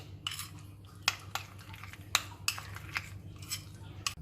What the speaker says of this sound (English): give a nice gentle good mix to this because we have pieces there also